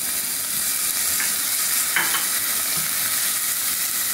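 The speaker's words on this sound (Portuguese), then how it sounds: "Tô refogando aqui na panela." Onion, garlic and bell pepper sautéing in a pan give a steady close sizzle and hiss throughout, with a couple of soft stirring scrapes and no voices.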